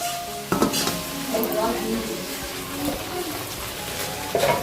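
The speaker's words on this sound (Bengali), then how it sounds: "এদিকে আলু কষানো চলছে এখনো" Potatoes sauté in a pan with a steady sizzle, broken by scraping and stirring and a few sharp clanks of a utensil against the pan.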